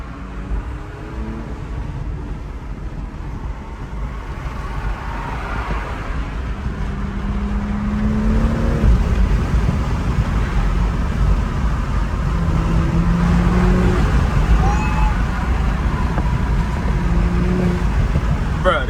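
A 2020 BMW M340i xDrive driving along, with a low, steady engine and intake drone that grows louder partway through under road and cabin noise, while someone talks over it.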